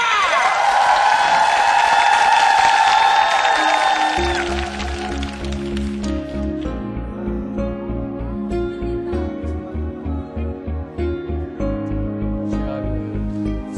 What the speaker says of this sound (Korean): 여러분들 큰박수바 필요합니다